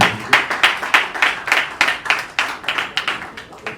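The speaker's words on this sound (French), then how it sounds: "Divine, on peut applaudir pour Divine." A small audience claps for a dancer at a concert, sharp rhythmic bursts of hand claps coming in uneven pulses, close and fairly loud, with no talking over them.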